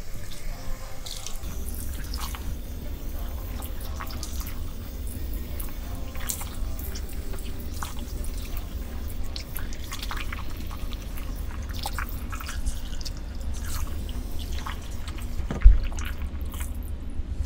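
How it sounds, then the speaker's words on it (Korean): Running water rinses shampoo out of hair and scalp, a steady close splashing and streaming flow that lasts throughout with no voices. "이렇게 충분하게 헹궈 주시면 됩니다"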